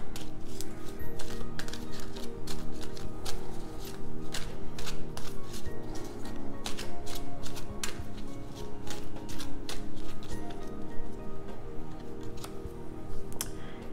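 Angel Answers oracle cards being shuffled and drawn, a rapid series of crisp flicks and snaps close by, steady and alone with no talk.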